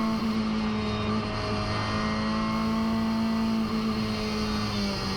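A race car engine drones steadily at Le Mans, close and loud throughout, holding a sustained tone with slight pitch shifts, no voices.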